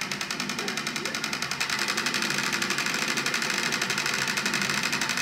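Rumble feedback from a Terminator 2 Judgment Day Arcade1Up cabinet, a fast steady mechanical buzzing vibration with a regular rattling pulse, continuous and close.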